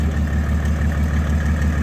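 A tuned Mercedes OM606 diesel engine with a big turbo idles steadily and loudly nearby in a drag car, a deep rhythmic chugging rumble with a constant throb and no pauses.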